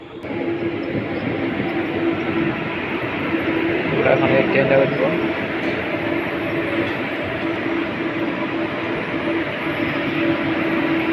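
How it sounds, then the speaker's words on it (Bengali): A train on an airport rail line in Malaysia pulls into a station platform. It makes a steady, fairly loud rumble that swells briefly midway, with people talking over it throughout. "ট্রেনটা এখন চলে আসছে আর আমরা এখন এই ট্রেনে ওটা সরাসরি এয়ারপোর্টে চলে যাবো"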